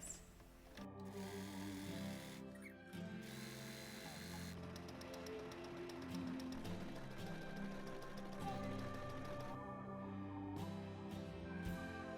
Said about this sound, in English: I'm going to be sewing 2 straight lines with the longest stitch, so I can then pull the threads